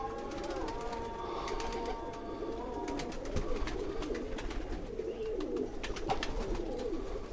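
A hand-held Bater 35 pigeon gives repeated soft, throaty coos close to the microphone, with a few brief bird calls against faint background noise.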